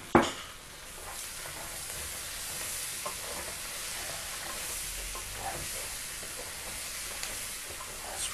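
Pork cheeks fry with pumpkin in a pan, giving a steady close sizzle and hiss with a few soft stirring scrapes, opening on a brief clatter.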